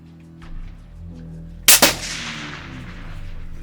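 A single 6.5 Creedmoor rifle shot fired outdoors on a ranging field, a sharp loud crack followed by a quick echo and a fading rumble over low steady background noise.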